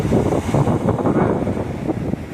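Strong wind roaring and buffeting the microphone outdoors by the Tyrrhenian Sea, with a low rumble of sea beneath, continuous and loud.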